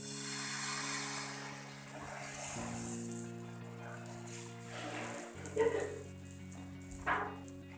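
Uttapam batter spread onto a hot, oiled griddle gives a soft, steady sizzle under sustained background music, with a few brief clatters near the end.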